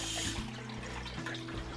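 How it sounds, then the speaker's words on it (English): Broccoli is rinsed under a running kitchen tap, a short, soft, steady splash of water close by with no talking. "Do one last rinse."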